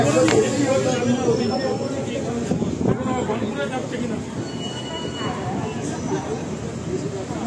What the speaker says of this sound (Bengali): আসানসোল থেকে ট্রেন ছেড়ে দিল আমাদের